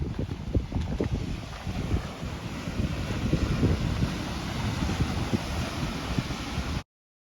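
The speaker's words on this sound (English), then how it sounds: "This is the surf beach." Surf beach at Exmouth, with strong wind buffeting the microphone and waves breaking in a constant loud rush that cuts off abruptly.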